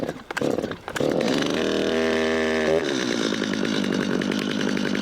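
A chainsaw is pull-started, with a couple of rough rattling cranks before the engine catches into a loud, close, buzzing idle that shifts pitch partway through and keeps running.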